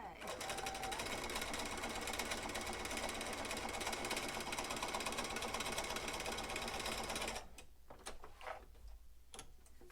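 A sewing machine stitches a fabric strip onto a white quilt border, running loud, fast and steady for about seven seconds before it stops and leaves a few soft handling sounds.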